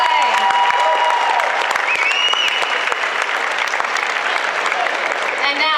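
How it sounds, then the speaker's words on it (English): Loud, sustained applause from a crowd at a 2017 Perth cosplay championship, dense clapping with a few whoops and whistles, steady throughout and close by. "Let's have a round of applause for China's Cosplay."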